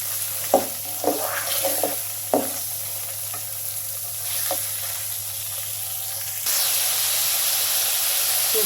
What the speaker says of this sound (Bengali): চিংড়ি মাছগুলো আমি ভালো করে মশলার সাথে একটু কষিয়ে নেব।